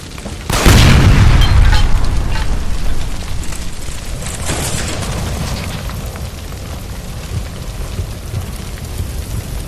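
A gas line explodes in L.A. Noire with a sudden loud boom near the start, then a long rumbling roar that fades under steady rain-like crackle and debris noise.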